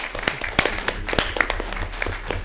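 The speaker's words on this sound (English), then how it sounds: "Stephen, I just want everyone to give you a round of applause." Audience at a board meeting applauding, with scattered, uneven claps close by for a couple of seconds.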